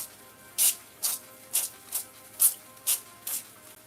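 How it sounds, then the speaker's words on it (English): Seven short sprays of cooking spray hiss from a can in quick, fairly even bursts, each a brief sharp puff of air close by. "I'm going to spray them and then we will roll them"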